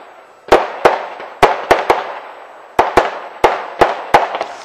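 Fireworks bursting on Guy Fawkes night, a string of sharp, loud cracks and bangs at irregular intervals, some in quick pairs, each trailing off into a brief rumbling decay.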